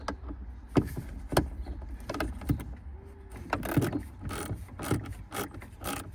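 Screws being backed out of a Dodge Charger SRT8 Super Bee interior panel during a Focal TWU 1.5 tweeter install, heard as close ratcheting clicks and scattered mechanical taps and scrapes, with no talking.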